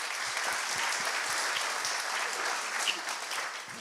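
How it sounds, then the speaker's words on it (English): Audience applause after a talk at a conversation event, dense continuous clapping from a large crowd, steady and even throughout before tapering slightly at the end. "And they deserve another round of applause."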